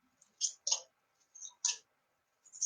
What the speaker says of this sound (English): And I'm just shuffling